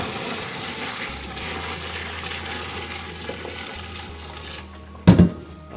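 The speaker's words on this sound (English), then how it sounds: "Had that water running, maybe you didn't hear." Steady low rush of water running from a kitchen tap while making Korean bone broth soup, followed near the end by a brief clatter.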